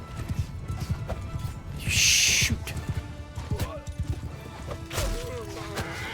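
Hooves beat in a rhythmic clatter as a horse gallops through a medieval battle in Mount & Blade II Bannerlord, mixed with game clashes and effects, and someone briefly speaks.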